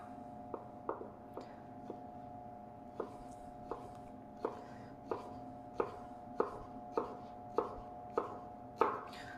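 A knife chopping vegetables into a fine brunoise on a cutting board gives crisp, evenly spaced taps, about a dozen close knocks in a steady rhythm, quiet, with no talking.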